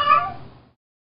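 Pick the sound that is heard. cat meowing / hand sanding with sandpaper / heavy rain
cat meowing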